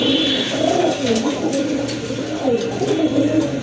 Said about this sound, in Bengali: এক জোড়া গড়া কবুতর ব্ল্যাক অ্যান্ড হোয়াইট কালারের